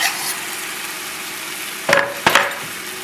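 White wine poured into a hot pan while cooking a turkey dinner, with a low background hiss broken by two short, loud bursts of sizzle close together near the end.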